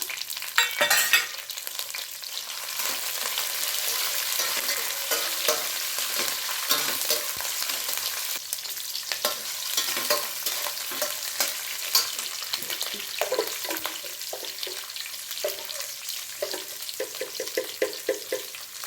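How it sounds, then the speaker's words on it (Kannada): Chopped green chillies fry in hot oil for lemon rice, a steady crackling sizzle close by with occasional stirring scrapes, no voices. "ಎಣ್ಣೆಯಲ್ಲಿ ಚೆನ್ನಾಗಿ ಫ್ರೈ ಆಗಲಿ ಮೆಣಸಿನ್ಕಾಯಿನೂ"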